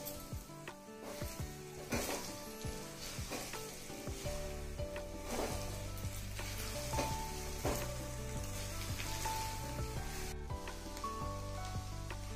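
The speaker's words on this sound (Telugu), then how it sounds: "బాగా కలుపుకోండి." Cauliflower and egg curry frying in a pan while being stirred, a steady close sizzle with repeated scraping strokes of a spoon, continuous and fairly even throughout with background music underneath.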